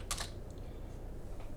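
Light tapping on a computer keyboard while a ping command is entered, a short cluster of keystrokes at the start and then near silence, faint and close.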